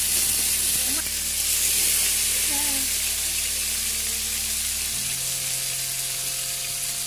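Food frying in hot mustard oil, salted against spatter, for prawn paturi wrapped in bottle gourd leaves; a loud, dense, continuous close sizzle that drops slightly in pitch partway through, with no talk.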